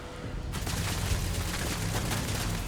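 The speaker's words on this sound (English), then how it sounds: "Oh, it's a turret." Sustained turret gunfire in Starfield, a dense, continuous rattle of rapid shots that cuts in abruptly and keeps going steadily, loud and booming with no talk over it.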